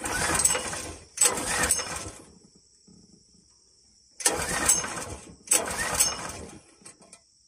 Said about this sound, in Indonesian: Ini sudah mau dinyalakan mesinnya, Bang Cepu.